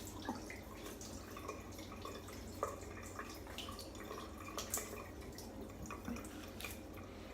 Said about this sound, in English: So I'm gonna rinse here.